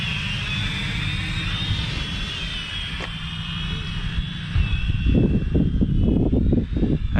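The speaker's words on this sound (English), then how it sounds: "Battery's still going, and it's been up in the air for a good while." An Ascend Aeronautics ASC-2450 drone flies outdoors, giving a steady high-pitched motor whine with shifting pitch, while wind buffets the microphone in the second half.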